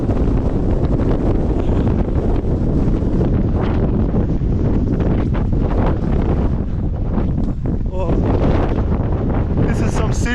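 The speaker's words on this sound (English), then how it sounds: "Oh, this is some serious wind." Strong wind in Scotland roars continuously and loudly across the microphone, a heavy buffeting rumble that never lets up, with faint voices buried beneath it.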